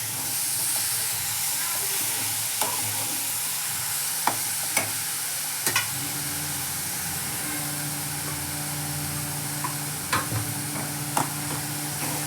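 Chillies, cumin and oil frying gently over a low gas flame, a soft steady sizzle with occasional clicks and light stirring knocks, fairly quiet and close, with no talking.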